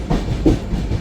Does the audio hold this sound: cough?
no